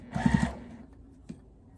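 A domestic sewing machine backstitching along the edge of a quilted table runner, a short quick burst of three or four close mechanical stitching thumps, then a single faint click after a brief pause.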